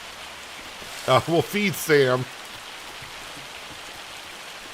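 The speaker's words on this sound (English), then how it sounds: "apparently it's raining now, or hailing now" Rain and hail in the Farming Simulator 25 farming game, a steady soft patter of falling drops under a brief spoken remark.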